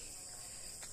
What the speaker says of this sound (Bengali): মানে যে ঝিঝি পোকার ডাক